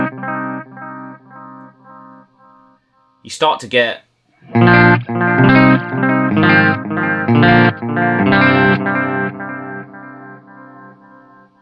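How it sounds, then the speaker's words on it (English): Electric guitar played through a Strymon Timeline digital delay with filtering, loud sustained chords trailing into echoing, filter-swept repeats, with a brief spoken phrase between the phrases. "So since we're on the timeline, let's go for some filtering."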